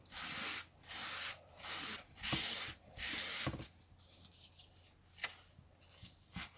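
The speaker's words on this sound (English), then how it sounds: "I just need a bit of kitchen roll to dab off the excess oil. I'm just going to wipe that over." Kitchen roll rubbed across oiled paper while making a paper luminary, a close, soft papery swishing in several steady strokes, then a few lighter brushing touches.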